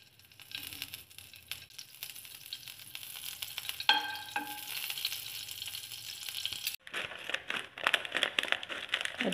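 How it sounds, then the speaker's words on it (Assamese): Vermicelli fries in ghee in a pan for sweet kheer, a continuous close sizzle with crackling and stirring scrapes that grows busier and louder partway through. "এয়া মই ঘিউ অকণ দি পেলাই ভাজি লম।"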